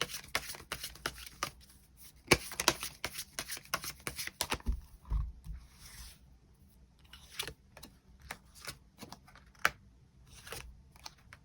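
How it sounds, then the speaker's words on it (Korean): Tarot cards are drawn and shuffled close by, a quiet series of crisp flicks, riffles and soft taps in uneven bursts, with gentle card handling between them and no talking. "새로운 인연에 대해서도 추가 카드 뽑아보도록 하겠습니다"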